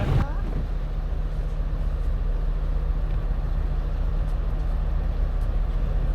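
A sailboat motoring in under engine power toward the harbour at Andenes on an exposed Arctic coastline in meager wind, heard as a constant low engine drone with some wind rumble throughout.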